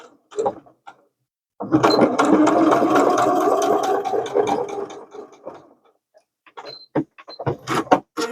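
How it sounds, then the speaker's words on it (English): A sewing machine stitches across and back over thick folded denim for a jeans zipper pouch, a dense burst of rapid mechanical whirring for a few seconds, bracketed by short clicks and taps, close and with no voices. "Because of the thickness of the fabric, I sewed across and then sewed back across."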